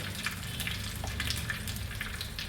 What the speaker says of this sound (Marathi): नंतर हा कढीपत्ता आहे, तो कढीपत्ता टाकत आहे. आणि अर्धा चम्मच हिंग.